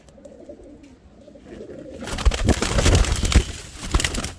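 Fancy show pigeons cooing in a loft: soft low coos at first, then louder, busier cooing and fluttering rustle from several birds close by, with no talk.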